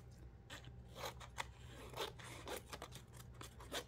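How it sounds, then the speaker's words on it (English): Scissors snip through patterned paper trimmed for a 12 x 12 scrapbook layout, giving a quick series of short, crisp cuts, close and quiet, with no voices. "we're gonna just use the scissors for that little bit."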